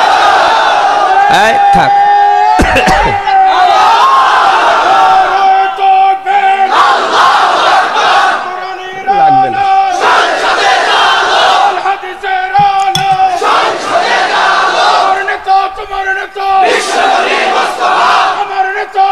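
A large crowd at an Islamic religious gathering in Kushtia, Bangladesh, chants the takbir in loud, booming unison in repeated waves, answering a preacher's call. The voices swell and drop between rounds, and a few words are spoken briefly.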